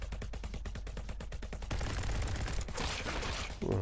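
Rapid revolver fire in the VR shooter Guns 'N' Stories Bulletproof on PSVR: a quick volley of sharp, evenly spaced shots, then a denser burst of overlapping gunfire, loud and close with no talking.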